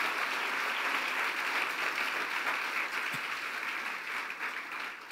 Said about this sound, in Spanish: Dele fuerte el aplauso entonces con esas manos también aplauden a Dios.